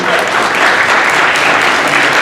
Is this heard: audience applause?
yes